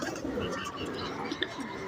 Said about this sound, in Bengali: মাত্র এই যে কবুতরটা নামলো